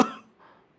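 A man coughs once, sharp and close, then the sound trails off into quiet.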